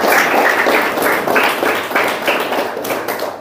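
Sustained audience applause at a village Annabhau Sathe Jayanti gathering, dense steady clapping from a crowd that swells in waves and carries on loudly for the whole stretch.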